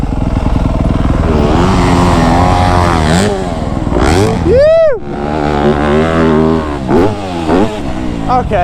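Motocross bike on a sand track revving hard toward a double jump, engine climbing and dropping in pitch as it launches, with a sharp rising whine midway and a person talking over the roar.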